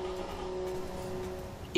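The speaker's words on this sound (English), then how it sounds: "The LE6 have a lovely sounds if you don't push it too high, and it's really smooth." An LE6 engine in a 1995 European roadster from a car game hums smoothly at moderate revs, a steady, fairly quiet drone with no sharp changes.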